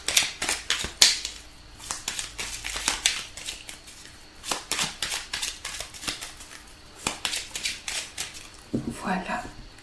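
Tarot cards shuffled by hand at close range, a fast run of crisp snapping riffles and slaps in uneven bursts, with a short voice near the end.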